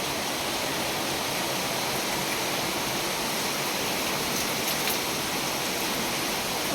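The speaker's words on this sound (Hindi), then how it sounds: "देखो बारिश आ रही है।" Rain pouring down in Mumbra, a loud, unbroken hiss of falling water that stays level from start to finish, with no one talking.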